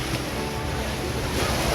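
Sea waves washing onto a beach in Boracay, heard as a steady broadband surf wash with some wind noise on the microphone, continuous and fairly close throughout.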